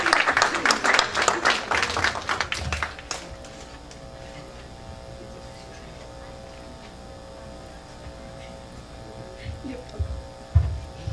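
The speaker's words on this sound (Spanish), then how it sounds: "Un aplauso." Audience applause at a climate change forum award ceremony: a dense burst of clapping for about three seconds that then dies away to a steady low room hum.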